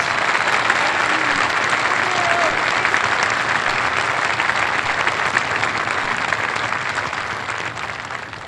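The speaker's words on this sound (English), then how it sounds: "Give him a round of applause." A large audience applauds at the U.S. Coast Guard Academy commencement ceremony, the dense, sustained clapping holding steady and loud for the full stretch before easing slightly at the end.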